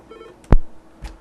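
A single short telephone dialing tone sounds near the middle, followed by a fainter second tone a half second later, clear and close on a phone line while someone calls a bus transit service.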